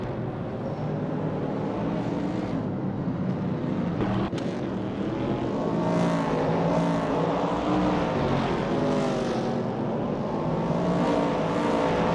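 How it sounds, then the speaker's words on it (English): A 1967 Mercury Cougar and other vintage Trans Am race cars on a twisting circuit, giving a steady, loud engine roar with rising and falling revs as cars pass, continuous throughout with no talk. "Ingo McCringleberry is driving a 1967 Mercury Cougar Dotto."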